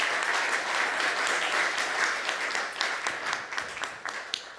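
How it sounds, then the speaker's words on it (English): An audience at a school district board of trustees meeting claps for parents, a steady wash of applause that thins toward the end into scattered individual claps. "one more final round of applause for all of our parents as well."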